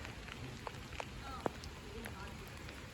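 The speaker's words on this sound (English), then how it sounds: "And this rain's getting quite a bit heavy now." Heavy rain falls steadily outside the ruins of Dunfermline Abbey, a dense, even hiss with a few scattered sharper drips and taps.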